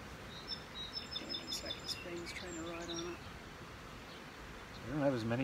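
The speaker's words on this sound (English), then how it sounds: "I don't have as many bees on the frame, but well, there's enough bees there." Honey bees buzzing on a hive frame during a queen graft acceptance check, a steady close drone with faint birdsong chirps in the background and a brief rising whine near the end.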